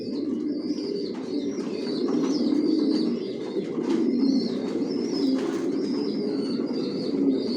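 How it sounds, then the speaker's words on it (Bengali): Racer pigeons in a loft coo steadily, soft rolling calls overlapping one another close by, with occasional chirps and a brief flutter of wings and no talking. "কোয়ালিটি সম্পন্ন কবুতর, টপ কোয়ালিটির, অরিজিনাল রেসার।"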